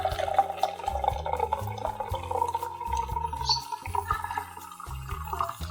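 A cocktail is poured into a glass of club soda, liquid splashing and gurgling close by in an uneven stream for several seconds alongside faint background music.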